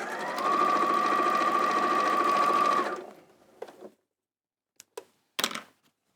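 A sewing machine runs in one steady burst while chain piecing quilt squares, a fast even stitching whir lasting a few seconds before stopping, followed by a few short handling clicks and rustles.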